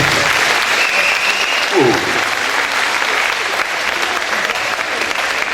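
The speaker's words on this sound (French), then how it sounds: "Sous vos applaudissements, s'il vous plaît." Steady applause from a pageant ceremony audience fills the room at close range, a dense, continuous patter of many hands sustained throughout at fairly even loudness.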